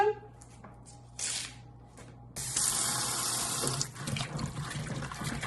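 Kale leaves fresh from a home tower garden rinsed under a running kitchen faucet, a steady rushing stream that starts, pauses, then gushes louder as the leaves are handled and shuffled beneath it.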